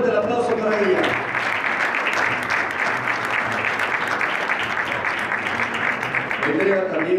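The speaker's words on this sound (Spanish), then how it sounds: "¡Fuerte el aplauso para ella!" An audience at an academic sports research award ceremony breaks into sustained, loud applause that fills the room for several seconds, with a speaker's voice briefly at the start and end.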